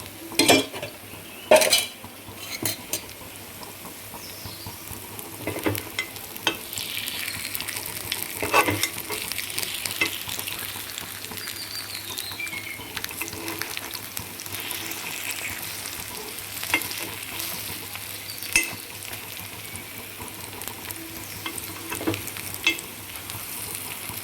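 Masala paniyaram frying in oil in a paniyaram pan and being turned with a metal skewer, a steady close sizzle broken by sharp metallic clinks and scrapes against the pan.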